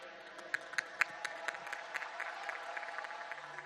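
Audience applause at the closing ceremony of the 36th National Games Gujarat 2022, a dense wash of clapping from a large crowd with a few sharper claps standing out, steady throughout at moderate distance.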